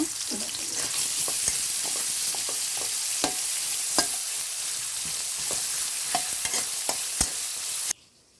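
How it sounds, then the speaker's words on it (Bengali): Chopped ginger, garlic and onion frying in soybean oil in a wok, a steady close sizzle broken by scattered sharp clicks of stirring, with no voices, before the sound cuts out abruptly near the end. "আদা কুচি রসুন কুচি এবং পেঁয়াজ কুচি দিয়ে নিলাম এগুলো আমরা একটু ভেজে নেব"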